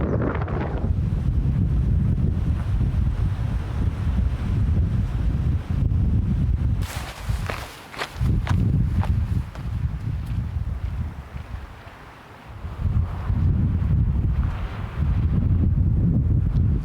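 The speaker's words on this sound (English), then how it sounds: "This would be a great campsite if it wasn't so windy." Strong wind gusts batter the microphone at a mountain lake campsite, a loud continuous roar that swells and briefly drops away before surging again.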